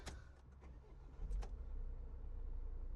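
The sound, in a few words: Renault Trafic van engine starting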